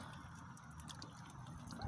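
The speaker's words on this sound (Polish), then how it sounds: "Jak sobie ładnie kapie" Water drips faintly from a shelf-mounted irrigation system fed by a hose and a stretched thin tube, a soft, steady trickle under quiet room noise.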